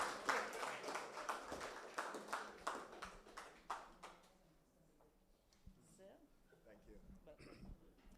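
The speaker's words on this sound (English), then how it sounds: "Let us give him a good St. Kitts round of applause" Loud applause for the Bank of Nevis general manager at a housing development launch in St. Kitts, with dense rapid clapping for about four seconds before fading to scattered claps and quiet room murmur.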